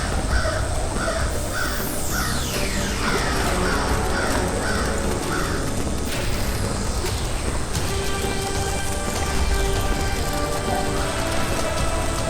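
A crow caws repeatedly in a steady series of short calls over constant heavy rain drumming on a surface, along with whooshing magical sound effects in a fantasy children's drama.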